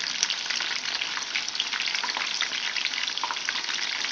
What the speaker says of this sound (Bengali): এটা অনেকক্ষণ ধরে ভাজলে ভেতরে চিকেনের পিস যে দিয়েছি সেটা ভালোভাবে সেদ্ধ হয়ে যাবে, আর ওপরটা ক্রিস্পি হয়ে যাবে।